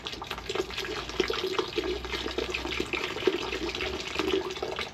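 Vinegar pours into a pot in a steady liquid stream, splashing continuously for several seconds at moderate loudness with no talking over it.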